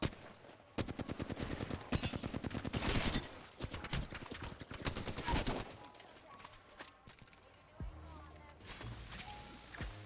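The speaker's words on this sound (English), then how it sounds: "I'm getting sniped from across the map." Video game sniper gunfire comes in rapid cracking bursts for the first half, then thins into scattered quieter shots and background rumble.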